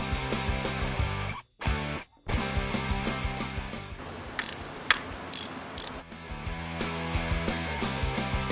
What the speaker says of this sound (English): Next, we're going to change out spark plugs.